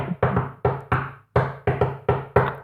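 Close, sharp knocks on an apartment door tap out the Koh-Lanta theme rhythm, eight raps in a clear patterned sequence with a brief gap in the middle.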